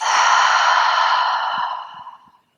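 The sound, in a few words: deep exhale out of the mouth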